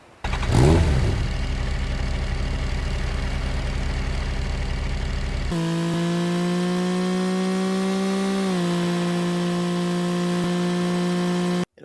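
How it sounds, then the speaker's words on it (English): A custom motorcycle engine starts up in the Roblox Jailbreak game, a loud synthetic cranking burst that settles into a steady droning idle, then shifts to a higher, cleaner tonal hum that dips slightly before ending abruptly. "It includes a custom engine startup and a sound."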